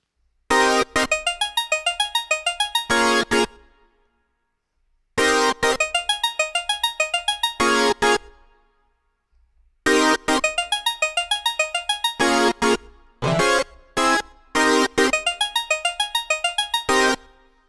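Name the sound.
synth stab and pluck patches played together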